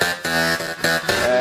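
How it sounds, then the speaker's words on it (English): Thick synth lead with a rhythmic pumping effect from an LFO tool, its sustained chords ducking and swelling in a steady pulse, loud and upfront with no voices. "I'm using the LFO tool for the pump effect,"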